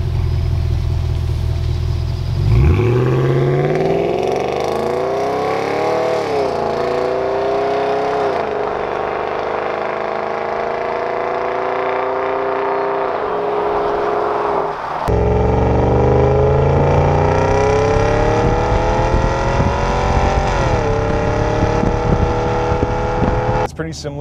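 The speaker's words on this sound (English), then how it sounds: "such a treat to listen to that V8" BMW X5 4.6is with a 4.6-litre naturally aspirated V8, revving up from idle into a loud, sustained climb with a rasping top end, dropping back and then rising again, heard close over someone talking.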